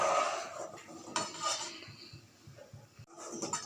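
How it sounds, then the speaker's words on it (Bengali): Spoon clinking and scraping inside a pot while stirring melting jaggery for chitoi pitha, a few close metallic knocks and rubs at moderate volume, with no one talking. "গুড়টা গলুক নেড়ে দিতে হবে বারবার করে"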